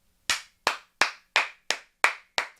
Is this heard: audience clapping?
yes